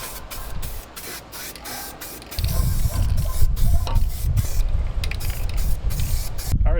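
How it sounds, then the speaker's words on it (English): Aerosol spraying of satin black chassis paint onto a pickup truck frame, a steady close hiss that swells louder partway through and carries on with short breaks between passes. "I want to hit the frame with some of this stuff. It's just satin black chassis paint."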